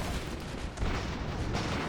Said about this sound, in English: There's a lot of explosions at the front here.